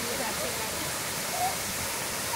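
Steady broadband rush of a waterfall at a secret waterfall spot in Konkan, where people are enjoying the falls; continuous and fairly even throughout, with no clear speech standing out.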